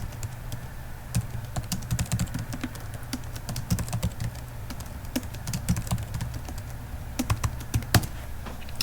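Continuous close typing on a computer keyboard, with rapid irregular key clicks and occasional sharper strokes over a low steady background hum.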